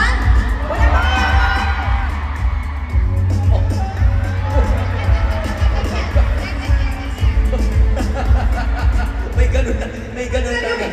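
A concert crowd cheers, whoops and screams loudly and without a break, with many shrill voices blending into a dense, continuous roar of noise.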